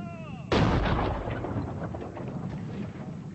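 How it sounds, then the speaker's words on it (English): Artillery bombardment from the Boer War era: a heavy boom bursts in suddenly and rolls on as a loud, rumbling roar of distant fire that slowly fades. "British artillery pounded Boer positions in the hills around the besieged towns."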